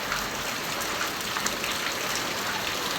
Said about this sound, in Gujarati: જુઓ વરસાદ બાટી આવ્યો છે।